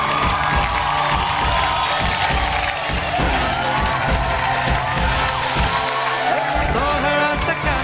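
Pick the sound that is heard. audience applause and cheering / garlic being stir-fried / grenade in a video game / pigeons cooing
audience applause and cheering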